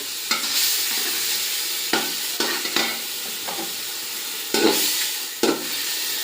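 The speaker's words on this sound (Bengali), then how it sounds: "চিকেনটা দিয়ে দিলাম" Chicken sizzling in a hot biryani pot on a gas stove, a steady frying hiss broken by several sharp scrapes of stirring, close and without talk.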